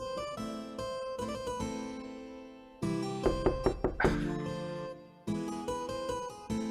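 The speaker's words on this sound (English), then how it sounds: "She heard the door knock." Several sharp knocks on a door sound in an escape room game, a short cluster of distinct raps mixed into the game's background sound.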